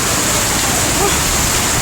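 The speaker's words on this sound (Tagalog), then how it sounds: "So, biglang lakas ng ulan." Sudden heavy rain pours down in Cotabato, a dense, constant hiss of water close by with no breaks or voices, steady for the whole two seconds.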